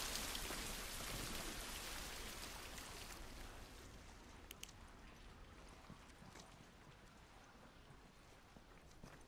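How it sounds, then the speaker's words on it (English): Steady rain patters on surfaces in The Last of Us Part II, a dense hiss that is loudest at first and then eases slightly, with occasional faint footsteps. "At least we're out of the rain."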